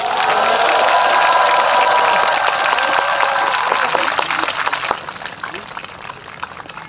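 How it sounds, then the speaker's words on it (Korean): Warm, dense applause rises from an audience at a memorial prayer service for the Itaewon disaster, loud and sustained for about five seconds before thinning into scattered claps. "이정미 위원장님 힘내시라고 다시 한번 뜨거운 박수 부탁드립니다"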